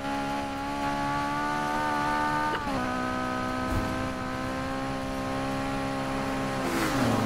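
Car in Need for Speed Heat holding a loud, steady engine drone with a short dip mid-run as the driver lets off the throttle, then the pitch climbing again as it accelerates.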